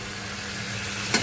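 Mutton pieces hit a hot pan already coated with ginger-garlic paste for a malai mutton gravy, giving a steady, soft sizzle and a brief clatter near the end.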